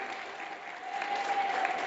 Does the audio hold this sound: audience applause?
yes